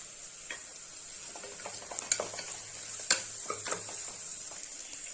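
Green chilies frying with ginger and garlic in a pan for green peas potato kurma, a soft steady sizzle broken by scattered spoon taps and clicks against the pan, close up.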